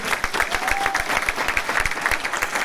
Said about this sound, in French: applaudissez-le fortement